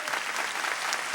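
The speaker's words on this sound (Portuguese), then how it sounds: "Pode aplaudir o Senhor." A church congregation claps together in steady, dense applause that fills the space evenly at moderate loudness without any talk over it.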